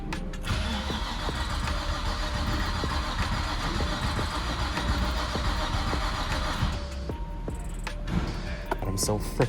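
A turbocharged Infiniti G35 with a built engine runs loud and close, as a dense continuous roar that shifts and eases near the end.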